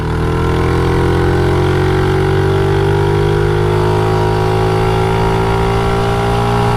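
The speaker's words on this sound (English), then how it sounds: "Let's see if this thing will lug me up this hill in second gear." A 1988 Honda Z50 minibike engine lugging uphill in second gear, a loud, steady, close drone whose pitch creeps slowly upward as it strains, with no talk over it.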